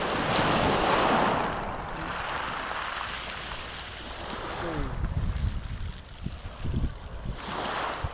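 Ocean waves wash onto a sunny beach where people are swimming, with a broad surging rush that swells and fades, mixed with wind buffeting the microphone.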